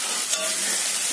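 Fish heads dropped into well-fried spices in a pan, giving a loud, steady hissing sizzle close up that fills the short moment without pause.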